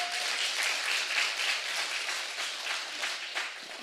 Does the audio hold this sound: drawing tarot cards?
no